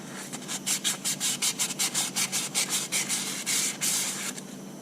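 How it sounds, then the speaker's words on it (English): Rhythmic, steady rasping strokes of sandpaper lightly sanding a Detroit 353T engine's metal gasket surface, about a dozen back-and-forth passes, close up with a faint hum underneath. "So it's just a light sanding."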